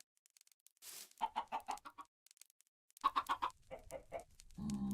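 Minecraft chickens clucking in two short rapid bursts of pecking clucks, clear and close against near silence, followed by a low rumbling game noise at the end.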